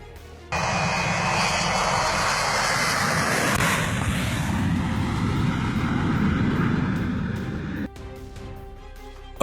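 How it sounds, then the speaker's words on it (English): A fixed-wing plane makes an emergency landing on sunlit blue water, its engine droning loud and steady for several seconds before cutting off abruptly near the end. "The plane made an emergency landing right on the sunlit blue water"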